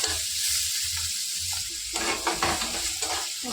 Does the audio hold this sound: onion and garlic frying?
yes